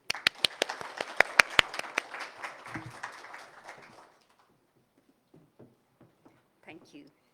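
Audience clapping to welcome a professor onto the stage at a lecture in Manila, dense and lively for about four seconds before thinning out to a few scattered claps and small sounds.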